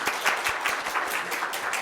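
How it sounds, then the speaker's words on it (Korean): A church congregation claps to welcome a returning couple during a Sunday service, a brief burst of steady, fairly loud applause from many hands. "우리 한번 박수로 환영하겠습니다"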